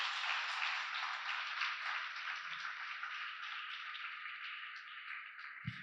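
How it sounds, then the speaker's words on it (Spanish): A church congregation applauds together in a steady wash of clapping that holds for several seconds and fades slightly, ending with a brief low thump. "Dele un aplauso al Señor por ese futuro que le depara"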